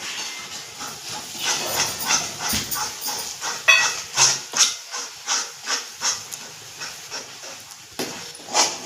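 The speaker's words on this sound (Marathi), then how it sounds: "तेल सुटेपर्यंत छान परतवून घ्यायचा मसाला" Black masala, chili powder, turmeric and salt fry in oil for a spicy drumstick (shevga) bhaji, giving a steady close sizzling hiss broken by regular rhythmic surges as the mixture is stirred.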